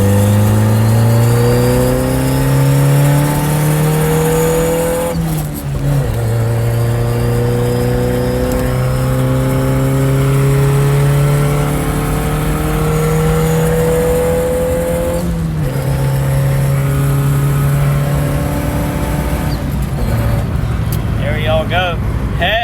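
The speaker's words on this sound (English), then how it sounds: "here's a Honda Easy pull from second." A turbocharged Honda Civic from the 1992–2000 generation accelerates hard from second gear, its engine screaming loudly up through the revs with rising pitch, short breaks at each gear shift, close and continuous throughout.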